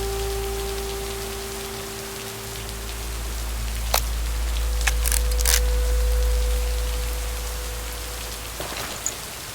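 Steady rain falls in the video game Lake, a dense, even hiss throughout with a low rumble underneath and a few faint tones and clicks scattered over it.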